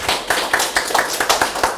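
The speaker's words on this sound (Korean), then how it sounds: "박수로 맞아주시기 바랍니다." Hands clap in a quick, even rhythm at a literary association's presentation event as a guest is welcomed; the claps are close and sparse, like a small group.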